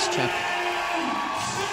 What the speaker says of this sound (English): The crowd erupts